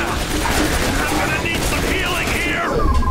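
Gunfire in the video game The Bureau, dense rapid shots and bursts over game effects and voices for a few seconds.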